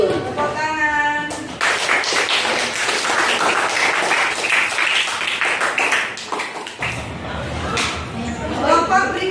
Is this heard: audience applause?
yes